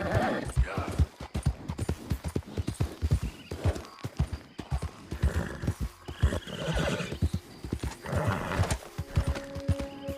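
Hooves clop in a fast galloping rhythm while a horse whinnies in Red Dead Redemption 2, with busy game ambience underneath and a neigh or two rising above the steady beat.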